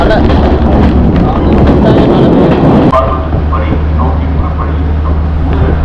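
A train rumbles and rattles along slowly and steadily at close range in the rain near Ella, Sri Lanka, a continuous heavy roar with faint clicking, under steady background noise.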